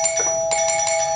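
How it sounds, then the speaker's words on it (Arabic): A doorbell chimes in a home with a bright electronic ding-dong tone, two quick ringing strikes within about a second, close and clear with no talk. "ماما عم بندق الجرس، ليكي برجع بحاكيكي."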